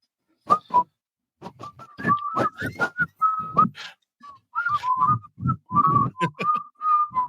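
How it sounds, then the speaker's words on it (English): Several people whistle short, wavering notes into a microphone, with breathy bursts and pauses between phrases, close and fairly loud. "3 men whistling into the microphone."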